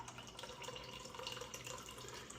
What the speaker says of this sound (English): I'm just going to go ahead and pour this in here.